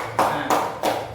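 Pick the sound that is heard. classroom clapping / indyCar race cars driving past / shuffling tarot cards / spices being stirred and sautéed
classroom clapping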